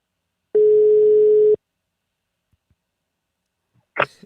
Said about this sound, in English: Is it a dial tone? That is.